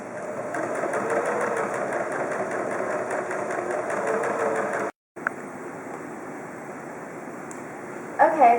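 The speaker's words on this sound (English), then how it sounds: "I'm almost done hemming my first ruffle" Sewing machine hemming a wide fabric ruffle for a bedspread, a steady fast mechanical whir and rapid needle ticking running close and continuously, with one brief stop partway through.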